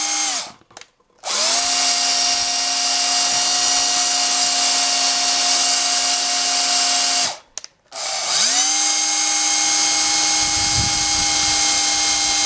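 A power drill spins an engine valve for lapping on a Dyna Z16 BGS, whining loudly and steadily with strong harmonics. It cuts out briefly twice, near the start and about midway, then spins back up.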